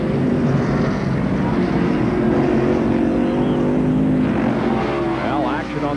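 NASCAR stock cars racing around the Sonoma road course in 1991, a loud sustained engine roar with shifting pitch as cars pass close by, under a commentator's talk.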